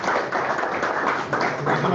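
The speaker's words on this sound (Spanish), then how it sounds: "Démosles un aplauso." An audience at a medical lecture gives the speakers a dense, muffled round of applause that carries on steadily throughout, with voices mixed in.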